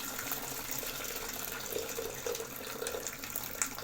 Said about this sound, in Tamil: அதனால நம்ம வந்து ஒரு பாத்திரத்தில் வடித்து வச்சுக்கலாம்.